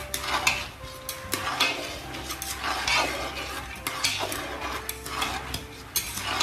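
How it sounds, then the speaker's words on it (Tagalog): Peanuts fry in a pan with only a little oil, a spatula scraping and stirring them against the metal in steady, repeated strokes, with a soft sizzle underneath, close and clear. "Ganyan lang po ang pagprito ng mani."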